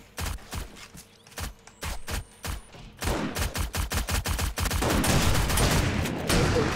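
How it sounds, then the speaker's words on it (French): Video game gunfire in a loud fight: rapid shots in uneven bursts, sparser at first, then a fast continuous volley over background noise, with no voice heard. "Ça tire un peu trop à mon goût là pour être dehors."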